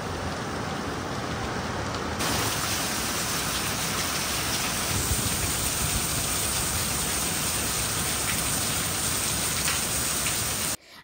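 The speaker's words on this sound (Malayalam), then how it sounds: "അപ്പോൾ മഴ നല്ലോണം തകർത്ത് പെയ്തുകൊണ്ടിരിക്കുകയാണ്" Heavy rain pouring down on a farm in Malawi, a dense, steady roar of falling water that swells louder after a couple of seconds and continues unbroken.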